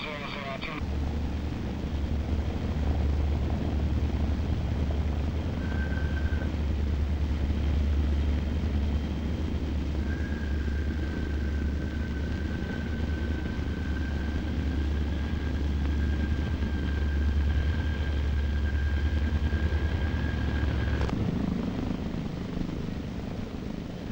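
A low, steady aircraft engine drone hums through the whole stretch as a flight approaches runway 29, with a thin whine rising over it and radio voices speaking over the engine noise.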